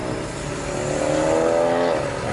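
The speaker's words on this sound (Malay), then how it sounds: "Boleh dengar lori, bunyi lori kan?" A lorry passes close by, heard through the opened window of a Mercedes S400h hybrid on a winding road, its engine tone rising and swelling then fading over a steady car cabin roar.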